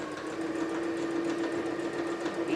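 Sewing machine running steadily while stitching festive Christmas placemats, a continuous mechanical hum with a fine rapid needle chatter, close and moderately loud, with no talking.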